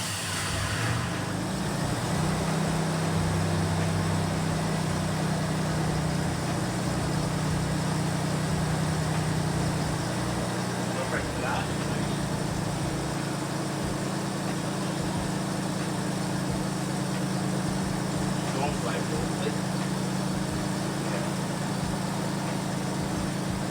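A freshly rebuilt race car engine fires up and settles into a steady, rough idle, its low mechanical rumble running unbroken for over twenty seconds with no talk over it.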